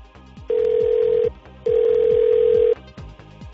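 A telephone rings during the phone-a-friend lifeline in a Who Wants to Be a Millionaire video game: two loud, steady electronic ring bursts, the second longer, over a soft repeating musical background with no speech.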